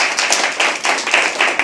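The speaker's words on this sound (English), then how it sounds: "Keep clapping till he comes on stage." Audience at a live poetry open mic clapping, a brisk run of close individual claps and light applause with a clear rhythmic patter.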